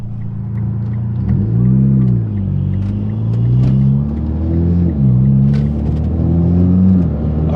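A car still running on leftover pump fuel drives close by, its engine rumbling loud and rising in pitch through two or three acceleration pulls with gear changes between them, and no one talking.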